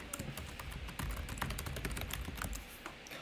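Rapid, irregular keystrokes on a computer keyboard while entering a password, a close, steady run of clicks with no talking.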